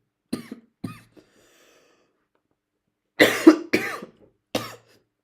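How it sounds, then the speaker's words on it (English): A person coughs in two short bursts near the start, then a harsher cluster of three or four loud coughs later on, close and alone with silence between. "I hate this cough."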